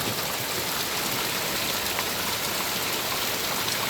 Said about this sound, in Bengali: কথা হচ্ছে এই বৃষ্টিটা রহমতের বৃষ্টিটা বৃষ্টি আমাদের জন্য স্থিরতা বয়ে নিয়ে আসছে